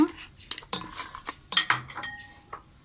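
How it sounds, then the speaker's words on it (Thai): Soaked sticky rice and dried shrimp go into a rice cooker pot, heard as a run of close, sharp clinks and scrapes of utensils against the metal pot with short pauses between. "เราจะเอาใส่ลงไปในนี้ ในหม้อหุงข้าว ใส่กุ้งแห้งตามไปเลย"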